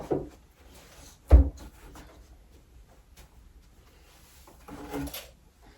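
Hidden drawer in a wooden desk pulled out, a short woody slide and knock with a couple of faint scrapes, quiet and close with no talking.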